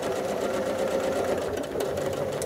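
A quilting sewing machine stitches a free-motion quilting design in a steady, continuous close-up hum, its needle rattling evenly throughout with no talk.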